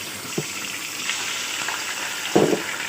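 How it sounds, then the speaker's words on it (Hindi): Chicken frying in oil in a karahi, a soft continuous sizzle with a few brief stirring scrapes, one louder near the end. "कढ़ाई में ऑयल ले लिया हमने, ये चिकन इसमें शामिल कर देंगे"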